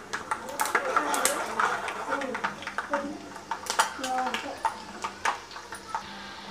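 Peanuts dropped into hot oil with mustard seeds in a pan while making bhadang, followed by repeated metallic clinks and scrapes of stirring, close and moderately loud, under steady talking.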